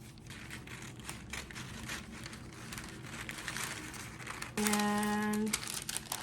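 A piece of paper is handled close by, crinkling and rustling in short bursts while a steady tone hums underneath for about a second near the end.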